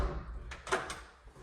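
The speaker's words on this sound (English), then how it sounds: "Now coming in from the back door," A back door to a house opens with a brief soft knock and scrape near the middle, faint and close against quiet room tone.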